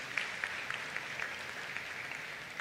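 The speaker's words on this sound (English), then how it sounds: "Give the future lawyers a round of applause." Scattered audience clapping at a scholarship symposium, a thin steady patter with a few sharper individual claps poking through, moderately distant and fairly quiet.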